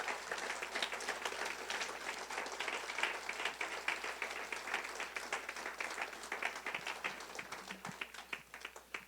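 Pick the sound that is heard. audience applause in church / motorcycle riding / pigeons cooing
audience applause in church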